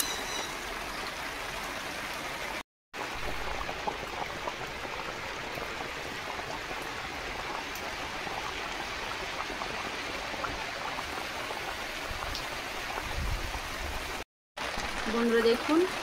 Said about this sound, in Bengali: একটু সময়ের জন্য মাছটা ফুটিয়ে নিই।